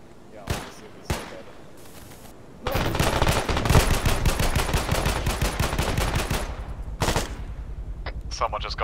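A few isolated gunshots, then a long sustained burst of rapid automatic gunfire for several seconds, followed by more scattered shots, loud and close on a reconnaissance mission, with voices talking at moments.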